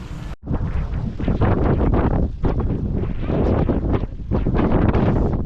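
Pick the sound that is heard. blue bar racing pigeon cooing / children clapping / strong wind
strong wind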